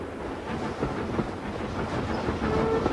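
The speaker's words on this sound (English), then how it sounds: "They're all converted tube trains from London," A converted former London tube train running on the Isle of Wight Railway, its steady rumble and wheel clatter continuous and fairly loud throughout, with no voices.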